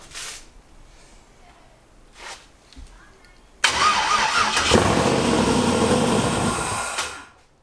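A Maliboost engine cranks and catches on its first start, then runs loud and steady close by for a few seconds before cutting off, after some faint earlier sounds and voices.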